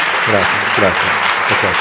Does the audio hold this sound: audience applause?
yes